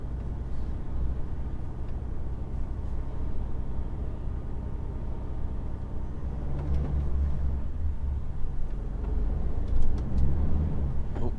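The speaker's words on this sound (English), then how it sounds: "Oh, wheel spin" A car's engine labours with steady low rumble while its wheels spin on the road near a deep drain in traffic, with a louder surge of revving near the end.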